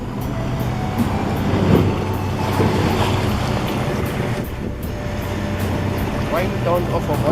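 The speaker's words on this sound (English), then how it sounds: "sound of a water skiing." Motorboat towing a water skier near Deception Island, Antarctica: a steady engine drone mixed with wind buffeting and water wash, fairly loud and continuous, with voices talking faintly underneath.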